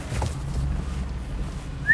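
A person whistles to guide a boat trailer reversing down a launch ramp, a short rising whistle near the end, loud and close over low outdoor rumble.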